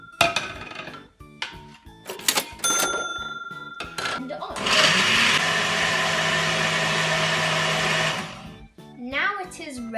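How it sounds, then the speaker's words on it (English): A kitchen blender whirs loudly for about four seconds, blending raspberries, blackberries, strawberries, mango and banana, after a series of clicks and clatters as it is set up; a voice speaks at the start and end. "Now I'm going to have to pop it into the blender."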